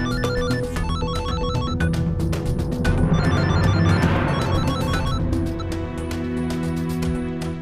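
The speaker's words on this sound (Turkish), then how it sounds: "Sana söylüyorum, telefonun çalıyor." An electronic ringtone tune repeats continuously over a dense, noisy background, ringing without pause throughout.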